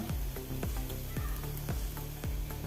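Oil sizzles steadily in a frying pan beside broccoli pushed to one side, with soft, regular utensil clinks about twice a second over the constant hiss.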